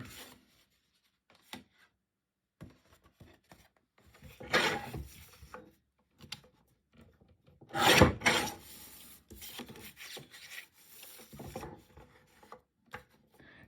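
Paper greeting card being cut out, with scattered soft rasping and rubbing cuts, a few louder scrapes and long quiet gaps between them, close by and without talk.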